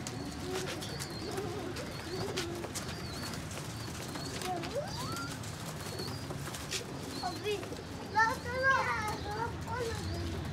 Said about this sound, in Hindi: ये एक जाख कबूतर है